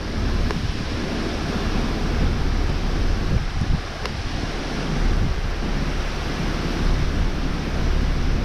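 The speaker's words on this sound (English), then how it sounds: "That's the waves." Coastal floodwater churned into waves by a truck driving through it washes and surges continuously, mixed with heavy wind rumble on the microphone, loud and close.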